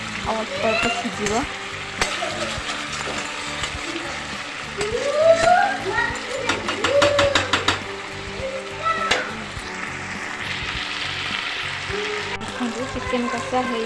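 Chicken kasha sautés and sizzles in a hot pan, a steady bed of frying crackle with stirring clatter and a few brighter bursts, while a voice talks over it.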